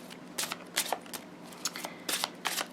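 Slightly slippery Shaman's Oracle tarot cards being shuffled by hand, giving several crisp riffling bursts with short pauses between them, close and clear against a quiet background.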